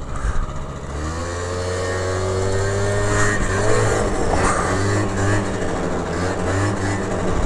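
A Honda Elite 50cc two-stroke scooter engine fitted with a new exhaust pipe, revving hard with a rising, buzzing whine and repeated throttle surges, loud and close throughout.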